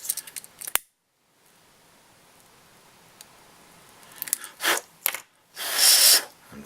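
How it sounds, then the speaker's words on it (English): Scissors snip an inner tube while a fly is tied, giving several short, crisp cuts near the end after a quiet stretch, with a few small clicks before the cuts. "trim off the tube, the inner tube"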